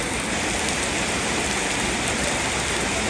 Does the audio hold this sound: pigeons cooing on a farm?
no